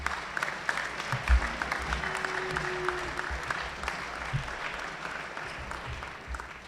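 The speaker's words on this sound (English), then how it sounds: "Let's give them a round of applause first" Audience applauding a high school sports team at a fall sports awards night, a moderate, steady patter of clapping heard from a distance in a large room, with no talk over it.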